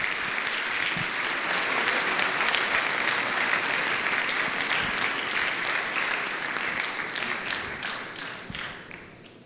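Sustained applause from a church congregation at a Saturday worship service, a thick, even roar of clapping hands that holds strong for several seconds and then gradually tapers off toward the end, with no talking over it.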